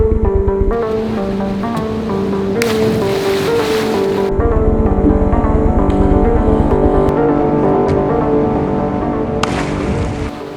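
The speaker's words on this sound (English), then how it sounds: "the waves are big today" Big ocean waves surge with broad, rushing washes, one especially strong swell in the middle. A steady, droning, engine-like hum runs underneath throughout, loud and close.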